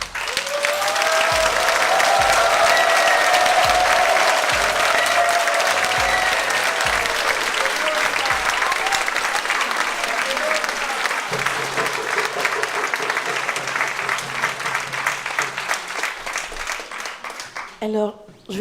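A congregation at a French-speaking Christian gathering claps and cheers loudly and continuously, the ovation holding strong before slowly thinning toward the end, with shouts mixed in.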